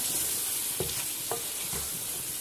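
Chicken frying in a karahi with masala, a constant loud sizzle broken by a few scraping strokes of a spoon as the pieces are stirred.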